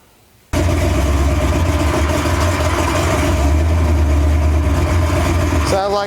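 A 1968 Ford Torino engine bursts to life and runs loudly with a rough, throbbing roar that holds steady at close range, ending in a brief warbling tone.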